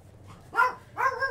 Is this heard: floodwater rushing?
no